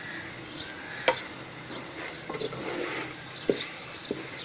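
Chicken and cabbage sizzle and hiss in a pan while a utensil stirs and scrapes with a few sharp knocks, no one speaking.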